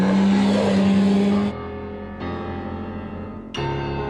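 A Yamaha R1 motorcycle engine roars steadily while riding, with loud sustained harmonics that drop in pitch in distinct steps as the rider downshifts, each gear change marked by a brief dip and a renewed surge.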